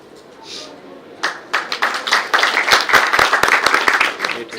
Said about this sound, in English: Give a big round of applause to sir.